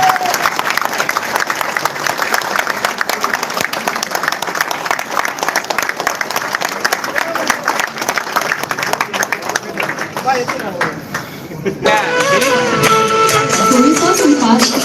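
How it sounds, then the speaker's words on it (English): Sustained audience applause at a celebration event, a loud, dense wash of clapping from a crowd with some murmuring, swelling a little louder near the end. "Can we hear a big round of applause?"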